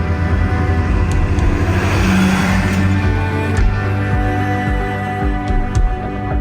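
A car cruising down a road, its steady engine hum and tire roar close and loud with slight shifts in pitch, no talking.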